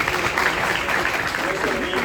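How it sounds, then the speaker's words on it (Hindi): A group breaks into applause at a success-story and leadership talk: dense, steady clapping fills the whole short stretch at close range. "ताली हो जाए, शाबाश, बहुत बढ़िया"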